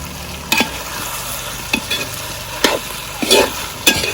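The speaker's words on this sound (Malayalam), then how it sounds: "അതിനുശേഷം നന്നായി ഇളക്കി കൊടുക്കും." Gobi manchurian fries in a pan with a sprinkle of pepper powder while a spoon stirs it, about five sharp scraping strokes spaced over a steady, close sizzle.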